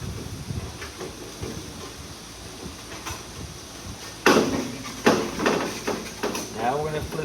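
Sheet metal is bent on a bending brake with a half-inch bending leaf, heard as several sharp metallic clanks and rattles over a quieter shop background.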